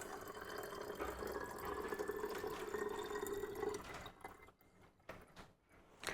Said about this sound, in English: And then we are ready to put this 250 mils of garlic infused water into our bottle.